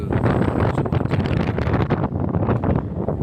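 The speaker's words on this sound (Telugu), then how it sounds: "గాలి మాత్రం భయంకరంగా వేస్తుంది" Strong wind roars and buffets the microphone in loud, continuous gusts, with no talking.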